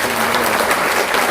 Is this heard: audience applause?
yes